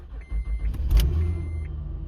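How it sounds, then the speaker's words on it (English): A 2011 Honda Odyssey engine starting after a key is programmed: a brief electronic chime, then the starter cranks and the engine catches into a low, steady idle close by. "And let's go ahead and start the engine."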